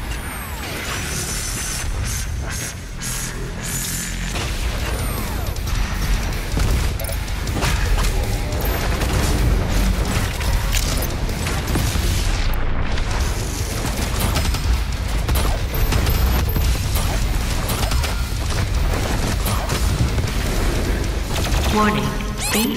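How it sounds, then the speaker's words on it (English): Sustained loud barrage from the BFG-10000 weapon in the video game Doom Eternal, a dense roaring wall of blasts, rumbles and crashes running continuously for the whole stretch, with a brief dip midway. "Warning, BFG-10000 is firing."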